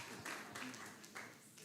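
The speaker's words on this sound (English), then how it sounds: "Give her a big round of applause" Applause from a crowd at a community Wi-Fi launch ceremony, a brief wash of clapping with overlapping voices.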